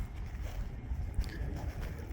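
Gusty wind blows outdoors at an airfield during a warbird fly-in day, around 25-mile-an-hour gusts, buffeting the microphone with a steady low rumble and uneven surges, close and continuous, with no talking.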